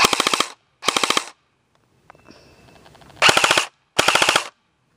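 Echo1 M4 Troy MRF-C airsoft AEG rifle firing full auto in four rapid bursts, each a sharp rattling string of shots, with a quieter mechanical whir between the second and third bursts.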